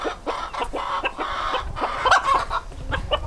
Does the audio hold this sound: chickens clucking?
yes